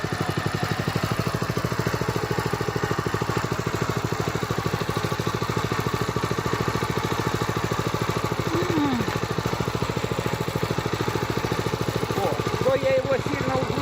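A walk-behind tractor engine pulling a flat cutter chugs loud and close with a steady rapid pulse throughout, a constant mechanical drone with no pause.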